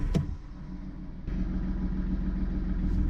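A car engine idles with a steady low rumble and a mid-range hum during an OBD diagnostic check with the warning light on. A brief knock comes early, the tone thickens partway through, and no one speaks.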